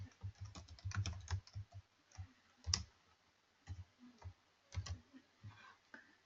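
Quiet, irregular bursts of keystrokes on a computer keyboard, clustered clicks with short pauses between runs, close and alone.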